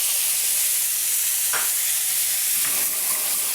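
White wine hitting a hot pan of shallots and garlic sets off a steady, loud sizzle and hiss, with a brief stirring scrape partway through and no voices.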